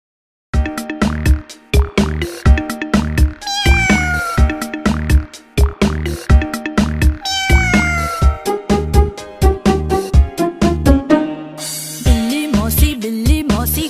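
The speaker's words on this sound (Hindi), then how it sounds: "बिल्ली मौसी कहो कहाँ से आई हो" Cat meowing repeatedly up close, a rapid series of loud, tonal meows and short cries in an uneven rhythm, alone with no talk.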